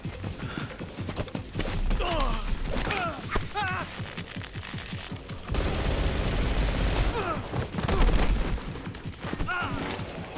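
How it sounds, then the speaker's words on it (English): Rapid bursts of gunfire ring out in Metal Gear Solid Delta: Snake Eater, mixed with clanking mechanisms, shouted voices and booms, growing denser and louder in the second half. "Shoot the other one!"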